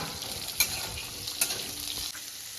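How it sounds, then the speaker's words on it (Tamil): Onions sautéing in a pan as the base for a tomato and cashew gravy, a steady close sizzle with stirring scrapes and two sharp utensil clicks, no voices. "கொஞ்சம் நேரம் வெங்காயம் வதங்கட்டும்"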